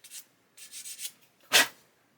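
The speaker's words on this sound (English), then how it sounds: "I'm just going to remove those sprue nibs" A sanding stick scrapes sprue nibs off the parts of an Airfix 1/72 Hurricane Mk.1 plastic kit in short, dry rasping strokes, ending in one stronger pass, close and alone.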